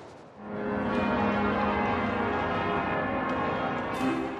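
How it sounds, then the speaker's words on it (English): Large change-ringing bells in the Liverpool Cathedral tower peal loudly and continuously, rich overlapping ringing tones sustained throughout with a few brighter strikes toward the end. "we're able to very precisely determine when that bell goes ding."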